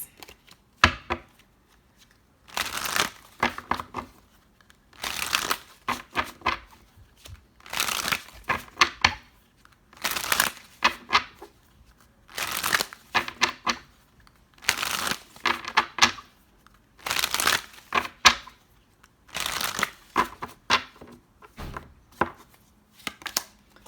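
Tarot cards are shuffled over and over in quick, crisp bursts of riffling and flicking, each burst separated by short quiet pauses, close up and with no talking.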